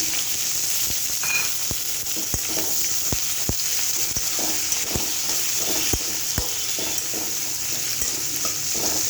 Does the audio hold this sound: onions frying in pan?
yes